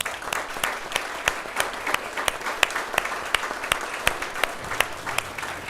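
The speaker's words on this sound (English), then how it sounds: "You got to give them a round of applause." Audience applauding at a city state-of-the-city event, a sustained round of clapping with sharp individual claps standing out from the crowd, moderately close and steady throughout.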